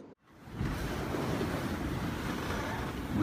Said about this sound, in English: We are sailing in the Gulf Stream just to the east of Key Largo, and we've got about 23 knots of wind true